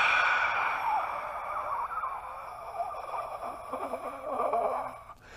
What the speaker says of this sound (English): you can hear that air being forced out of my lungs